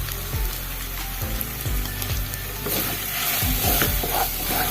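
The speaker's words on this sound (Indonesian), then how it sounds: "Aduk terus sampai bumbunya benar-benar matang dan wangi ya" Spice paste with galangal and ground pepper frying in oil for chicken soto, stirred continuously: rhythmic scraping strokes of a spatula against the pan over a constant loud sizzle, close up and without speech.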